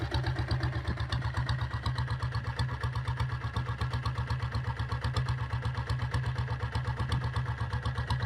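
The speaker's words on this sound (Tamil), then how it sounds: "வண்டி பீட்டு கேளுங்க எப்படி இருக்குன்னு சொல்லுங்கள்." A 2000 Taurus diesel motorcycle engine idles with a steady, rapid thumping beat, loud and close, its low pulses repeating evenly for the whole stretch without talk.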